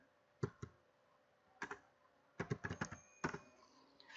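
Typing on a computer keyboard: a quiet, close sequence of sharp key clicks in small irregular clusters with short pauses between them, and no talking.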